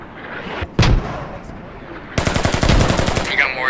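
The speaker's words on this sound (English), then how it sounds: "Yeah, we're being mortared to death." In the video game Squad, a heavy mortar-like boom lands early, then a sustained, rapid burst of close automatic gunfire hammers on loudly over the last part, with scattered battlefield noise between.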